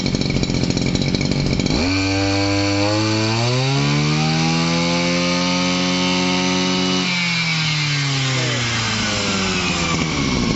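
A Shindaiwa 260 brush cutter engine, a used Japanese two-stroke, revs hard to full throttle, its pitch climbing steeply, holding a high wail for several seconds, then dropping back toward idle, loud and close with no talk.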